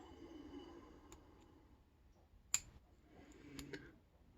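Faint, sparse metallic clicks from pins being picked in a Chubb rekeyable aluminium padlock under heavy tension, a few light ticks with one sharper click in a quiet room.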